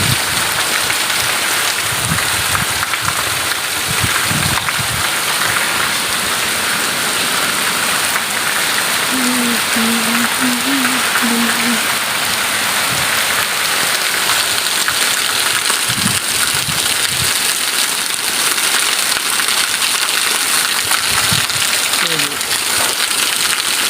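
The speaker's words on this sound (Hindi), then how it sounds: "आज बहुत ज़्यादा बारिश हो रही है" Heavy rain falls over a village in a loud, unbroken hiss, with a voice talking at intervals beneath it and brief low thumps scattered throughout.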